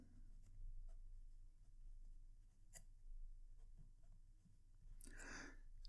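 PenBBS 487 fountain pen with a fine nib writing on paper, a faint close scratching with small ticks, ending in a brief louder rustle.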